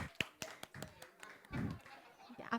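Children clap along at a Sunday worship service for a youth department, loose rhythmic hand claps with uneven timing mixed with a voice and singing, fairly close and irregular in strength.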